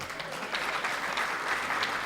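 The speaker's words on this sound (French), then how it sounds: "Applaudissez pour Mvogo." Audience at a live stand-up comedy night claps steadily, a dense wash of applause that holds at an even level from start to finish, with no speech.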